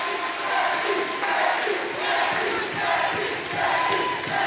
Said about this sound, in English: Listen to the crowd. There's a lot of fan support.